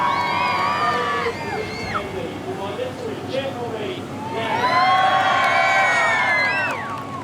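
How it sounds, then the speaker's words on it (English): An outdoor crowd at the Beaulieu Supercar Weekend cheers and shouts for a V12 Lamborghini in a sound-off contest, voices rising together into a louder swell midway and holding before easing off. "If you'd like the V12 Lamborghini to win, let me hear you now. That's it, cheer now."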